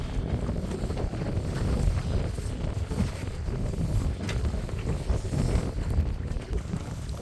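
Wind gusts roar steadily against the microphone on a small fishing boat while a net is checked for omul in Yakutia, a continuous low buffeting rumble with no voices.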